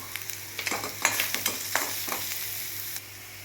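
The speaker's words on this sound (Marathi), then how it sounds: "आता आपला लसूण पण झाला व्यवस्थित फ्राय करून आता ह्याच्यामध्ये आपण हळद पावडर घालून घेऊया" Garlic frying in a pan as turmeric powder goes in for masala okra, with a steady hiss under a quick run of crisp scraping and stirring strokes that fade to a plain sizzle, no voices.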